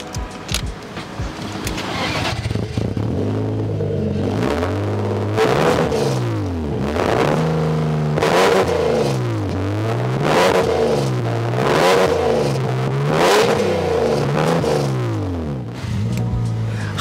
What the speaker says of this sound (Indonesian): Khas banget, mesin M52-nya BMW ini pol enaknya.